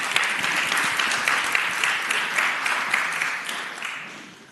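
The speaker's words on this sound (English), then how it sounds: "Let's give them an applause for being with us today" Steady applause from legislators and guests in the Virginia Senate chamber welcoming visitors, a dense, moderately distant clapping that continues evenly and then tapers off.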